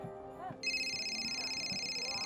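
A phone rings with an incoming call, a steady electronic tone starting abruptly and sustained after a brief faint voice.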